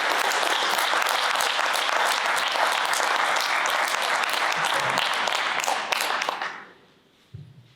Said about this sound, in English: A big applause for Catja, please.